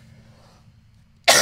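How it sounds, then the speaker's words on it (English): A single abrupt cough bursts out near the end after a quiet stretch, close and loud. "I'm coughing too much."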